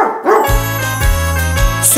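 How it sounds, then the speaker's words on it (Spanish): A cartoon farm dog gives a short series of bright barks over a bouncy children's song with tinkling accompaniment, loud and upfront. "El perro hace wow wow."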